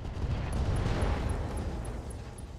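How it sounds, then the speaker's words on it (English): An ammunition explosion erupts in the RogueTech BattleTech mech game, a loud, sustained rumbling blast with crackling detonations that roars for a couple of seconds alone. "Ammo explosion there."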